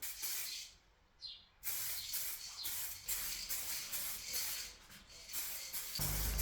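Clear coat is sprayed onto the repainted engine bay of a Volkswagen Golf MK2 GTD in several close, hissing bursts separated by brief pauses.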